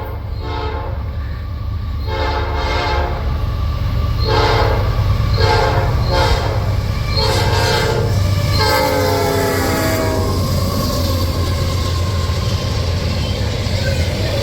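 A Norfolk Southern freight train rumbles steadily close by while a horn sounds in several long blasts, loud and sustained over the continuous roar of the passing cars.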